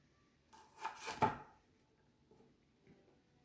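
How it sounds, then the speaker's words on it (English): Knife slicing cherry tomatoes down the center on a cutting board for cucumber bite appetizers, a short burst of close cutting and board contact lasting about a second, then quiet. "I'm just going to go ahead and cut enough of cherry tomatoes"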